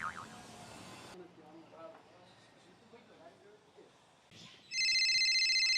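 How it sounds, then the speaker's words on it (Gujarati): A voice talks briefly, then after a short pause a telephone suddenly rings with a loud, steady electronic tone that continues to the end. "આઈ ગયો મફતલાલનો ફોન."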